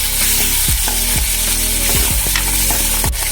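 Tomato and onion fry in hot oil in a small tempering pan, giving a loud, continuous sizzle broken by several scraping stirs of a spoon against the metal.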